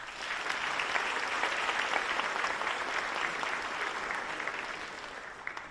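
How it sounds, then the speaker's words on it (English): Applause at a high school athletic awards ceremony for the scorekeepers, clock keepers and field paint crew, a steady round of clapping from a seated audience, fairly distant and even, tapering off at the end. "let's give those folks a round of applause"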